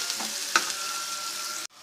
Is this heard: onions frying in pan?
yes